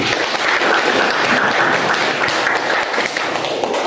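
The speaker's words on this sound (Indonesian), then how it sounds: "Tepuk tangan buat Taufik." A room full of people applauds after a classroom presentation, dense and loud clapping that keeps an even texture from start to finish with no talking over it.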